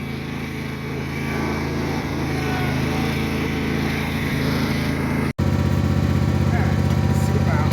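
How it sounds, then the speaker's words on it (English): A Yanmar diesel engine on a Cub Cadet roller drones steadily, cuts out for a split second, then comes back louder with a rough, chugging rhythm. "We need to do a cold start on that."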